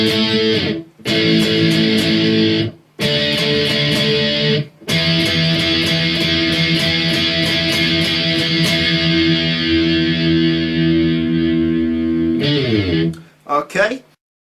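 Distorted electric guitar plays the interlude of a song, loud and close, with chugging strummed riffs broken by short gaps and a burst of choppy chords at the end.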